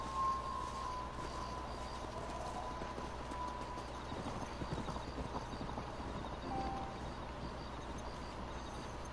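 Horse hooves clip-clop steadily in Red Dead Redemption, a moderate, even trotting rhythm over quiet ambient background with faint bird calls.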